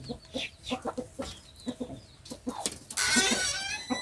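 A chicken clucks repeatedly in short rhythmic bursts at close range, followed by a louder rushing, crackling noise in the final second, with no speech.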